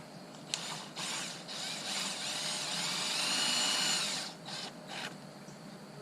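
A power drill runs in sustained whirring bursts while toe-screwing center pieces into a wooden chicken tractor panel, with one longer steady run in the middle and short starts and stops around it, fairly close and with no talk.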